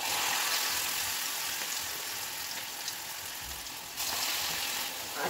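Onion pakoda batter frying in hot oil for a morning breakfast, a steady broad sizzle and bubbling that fills the clip, with a slight surge near the end as more batter goes in.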